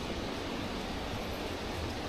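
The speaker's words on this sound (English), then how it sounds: "Here comes another big gust." A strong gust of wind roars through the woods at a Pennsylvania mountain deer camp, a steady, dense rushing that holds at an even loudness for the whole stretch.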